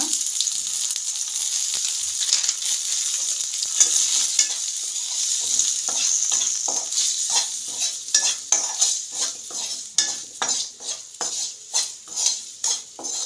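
Mutton masala and curry powder frying in hot oil for a mutton-flavoured sundal curry, a bright constant sizzle under rhythmic metal spoon stirring and scraping against the pan, close and loud.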